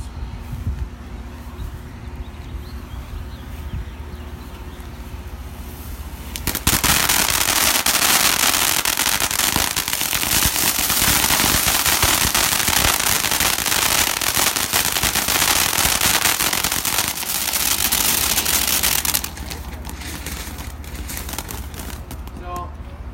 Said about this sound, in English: So 3 of our smaller ground torches quickly catch the dry hay on fire